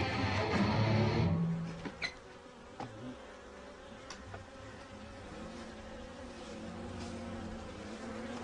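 Bees and a hornet buzz while fighting, a loud close droning hum at first that drops to a fainter, steadier buzz, with a few short sharp bursts of wingbeats along the way.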